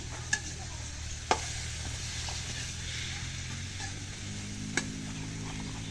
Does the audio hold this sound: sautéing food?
yes